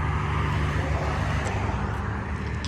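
A tuned Infiniti Q50 sedan drives past, giving a loud, steady broadband engine and road roar close by with no voices.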